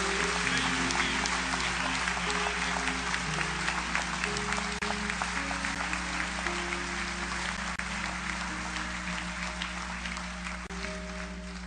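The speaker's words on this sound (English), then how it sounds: "I want you to give them a round of applause." A large church congregation claps continuously in sustained, dense applause that holds steady for several seconds, with a faint musical tone underneath.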